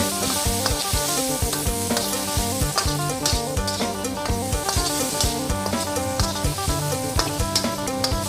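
Pork belly stir-fries in a pan for a cabbage stir-fry, with a loud close sizzle broken by rapid rhythmic scraping and tossing of a utensil against the pan, with no voices.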